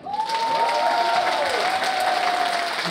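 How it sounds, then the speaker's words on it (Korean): A crowd at a club launch ceremony and festival applauds loudly and steadily, with a sustained wash of clapping and a whistle-like tone sliding through it. "다시 한번 박수 한번 보내주세요."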